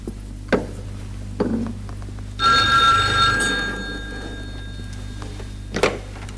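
An office telephone bell rings once in a short burst, loud and close, with faint knocks and room sounds around it in a Pakistani TV drama scene.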